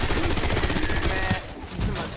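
Rapid bursts from the Mangler's arm cannon in Black Ops 6 zombies, a loud close fusillade of repeated shots that cuts off, then a brief second burst.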